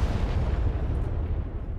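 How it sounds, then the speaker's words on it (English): A deep, rolling boom from a tank firing in the video game Arma 3 on Altis, a loud low rumble that fills the moment and slowly fades. "Oh, that tank sounds good."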